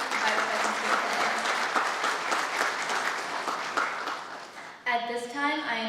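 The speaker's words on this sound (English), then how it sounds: "please join me in giving them a warm round of applause" Audience applause at a medical college graduation ceremony, a dense sustained wash of many hands clapping loud and near for about five seconds before a voice comes in at the end.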